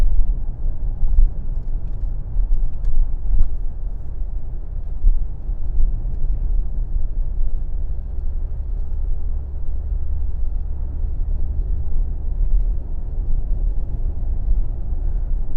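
A steady, low engine rumble from inside a moving Range Rover Sport Black Edition, with constant road noise and no voices throughout.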